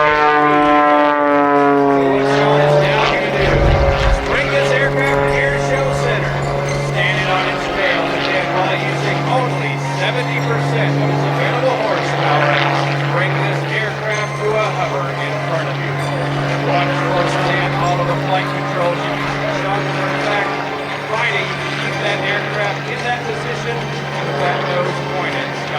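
An aerobatic propeller airplane flies the Harrier Path maneuver at the Planes of Fame Airshow 2013. Its loud, droning engine shifts pitch early on, then holds steady while an announcer talks over it throughout.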